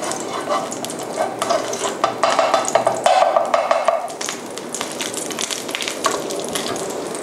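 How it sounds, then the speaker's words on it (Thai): Panang curry paste stir-fried in vegetable oil in a pan, a steady loud sizzle with scraping spatula strokes and clinks throughout, swelling briefly in the middle. "น้ำพริกแกงพะแนงค่ะ ผัดให้น้ำพริกมีกลิ่นหอมนะคะ"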